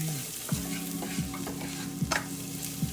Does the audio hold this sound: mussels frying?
yes